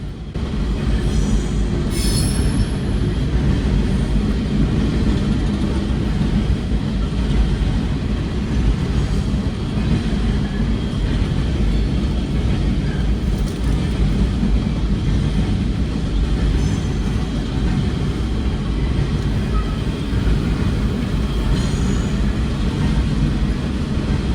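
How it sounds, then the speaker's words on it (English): A coal train rumbles continuously and loudly across rail diamonds for a long stretch, with steady rolling noise and brief high squeals from the wheels on the track. "After the mystery coal train made its way across the diamonds"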